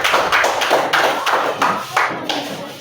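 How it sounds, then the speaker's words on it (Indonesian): Classroom clapping in an elementary school class, loud near claps in a rhythmic pattern of repeated bursts, with children's voices mixed in. "kasih tepuk tangan meriah ya"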